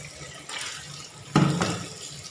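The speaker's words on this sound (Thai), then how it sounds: "ล้างมันสะอาดแล้วก็เอาไปต้ม" Running water from a tap rinsing cleaned frogs before boiling them for a Thai frog dish, a steady close splash with a louder gush of water partway through.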